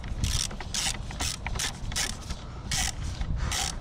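Ratchet tightening the transmission fill bolt on a 2006 Acura TL during an automatic transmission fluid change, a run of quick repeated clicking bursts close by, steady and fairly loud with no talking.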